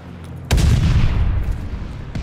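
Gunfire at the hardpoint in the WWII shooter Call of Duty: Vanguard: a sudden loud blast followed by a rumbling barrage of close shots and another sharp crack near the end.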